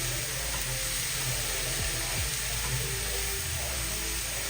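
Mushrooms, onions, peppers and snow peas are stir-frying in a pan, giving a steady, even sizzle with faint stirring scrapes and no talk.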